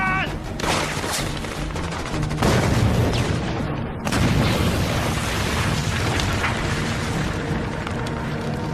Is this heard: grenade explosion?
yes